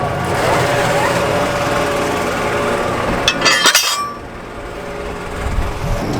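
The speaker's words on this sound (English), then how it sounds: "Now we'll just lift the whole drill up" Steady tractor engine drone with a burst of clanking and rattling midway as the hydraulics lift a seed drill for alfalfa seeding, then the engine hum continues more quietly.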